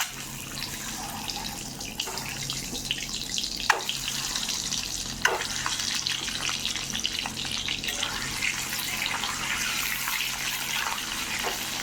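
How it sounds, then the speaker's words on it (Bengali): Beaten eggs hitting hot oil in a kadai give a steady close sizzle, with a few sharp pops and clicks over a soft watery hiss. "তেলটা গরম হয়ে গিয়েছে, এখন আমি ডিমটা দিয়ে দিব।"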